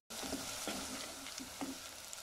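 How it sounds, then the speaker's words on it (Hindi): Onions fry in hot oil for daal maash, giving a soft, steady sizzle that starts suddenly, with a couple of stirring scrapes over about two seconds and no voices. "प्याज डाल दिए।"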